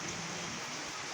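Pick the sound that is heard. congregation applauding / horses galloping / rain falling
rain falling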